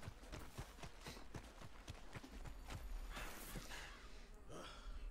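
A horse gallops in Red Dead Redemption 2, its hooves clip-clopping in a quick, even rhythm close by, followed by a breathy snort and gust of movement as the pace changes.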